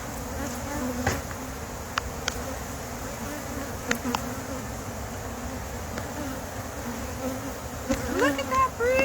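Honey bees buzz in a dense, continuous drone around an open hive, with individual bees passing close now and then and a faint voice near the end.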